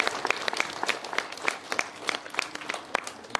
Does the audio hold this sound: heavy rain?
no